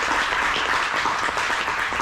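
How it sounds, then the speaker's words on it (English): A conference audience gives steady, even applause, a dense wash of many hands heard from a distance with no pauses through the short stretch. "Please give a big round of applause."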